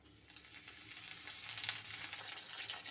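Whole spices, cumin seeds and cloves with cinnamon and cardamom, fry in oil for a winter vegetable khichuri, giving a soft, steady hiss that grows slightly louder with faint crackles and stirring noises, close and alone.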